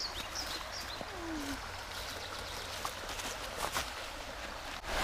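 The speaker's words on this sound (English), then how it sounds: "Like a babbling brook." Water trickles and burbles softly in a small creek in David Crockett State Park, a gentle steady babble heard from nearby with no voices.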